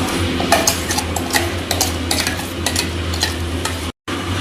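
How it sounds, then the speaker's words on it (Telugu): A mixie grinds tamarind and spices with a little water into a paste for Rayalaseema charu, a close, steady motor whir carrying rattling, churning bursts before a brief cut near the end. "మనం కొంచెం వాటర్ వేసుకుంటూ మిక్సీకి ఇలా పట్టుకోవాలి,"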